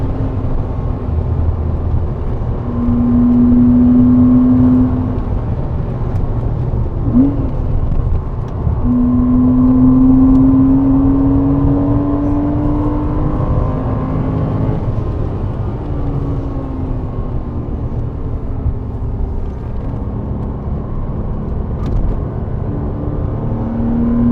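Porsche 987 Cayman engine held at full throttle on the Goodwood track, a loud, sustained in-car drone with a steadily rising tone through long pulls, a brief dip around seven seconds, then climbing again without pause.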